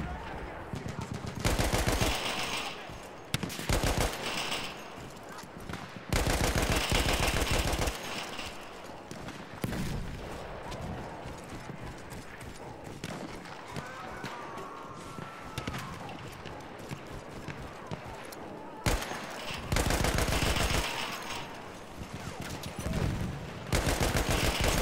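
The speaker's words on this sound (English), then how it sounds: "I hear gunshots in the distance." Gunfire from the First World War shooter Battlefield 1 comes in repeated rattling bursts of rapid shots, separated by quieter stretches of background battle noise.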